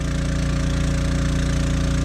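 Champion 3500 portable generator running an air conditioner inside an RV, a steady close engine drone with a pulsing low hum that stays constant and loud throughout, with no voices.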